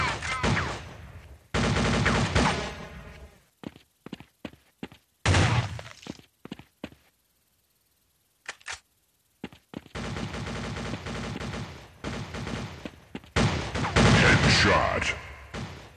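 Sniper shots and gunfire in the mobile shooter Critical Strike CS, multiplayer battle mode: loud, dense bursts of firing in several separate clusters with short gaps and a near-silent stretch in the middle.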